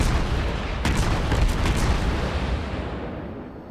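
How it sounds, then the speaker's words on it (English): Cruiser main guns fire a salvo in the World of Warships naval combat game, a loud booming burst of several overlapping blasts that rolls into a fading rumble over a few seconds. "Ah, good salvo."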